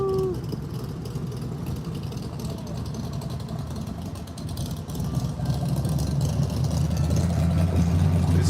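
A loud engine rumbles and idles steadily, growing stronger in the second half, with low droning tones under traffic noise.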